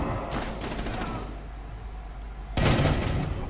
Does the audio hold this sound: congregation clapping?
no